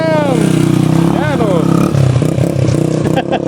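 Rusi motorcycle engine revving close by, its pitch rising and falling in quick sweeps, with people talking loudly over it.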